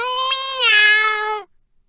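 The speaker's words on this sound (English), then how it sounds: "It's only the doorbell." A castle gate doorbell that sounds like a cat meowing gives one loud, drawn-out meow-like tone lasting over a second, followed by silence.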